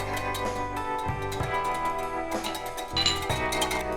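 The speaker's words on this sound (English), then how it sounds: "To this, add 1/3 cup salted butter and whisk." Eggs, milk and salted butter being whisked in a bowl for waffle batter give quick, steady metallic clinks and taps against the bowl, close and fairly soft, with no talking.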